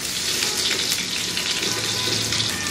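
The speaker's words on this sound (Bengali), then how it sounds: "এর মধ্যে কিছু পেঁয়াজ, 2টা মাঝারি সাইজের পেঁয়াজ, এগুলাকে একটু ভেজে নিব।" Two medium onions fry in mustard oil, a dense, loud, continuous sizzle and crackle heard up close, with faint stirring under it and no voices.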